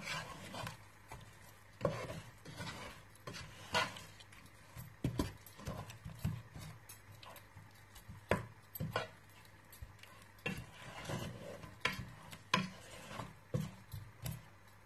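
A spoon stirs harira soup ingredients in a pot, giving irregular soft knocks and scrapes against the pot, faint over a quiet room background.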